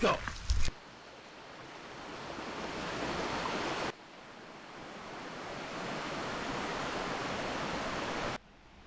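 Constant roar of rushing water from a waterfall beside a riverside campsite, loud and broadband with wind buffeting the microphone, broken by brief cuts and a short bump of handling noise at the start.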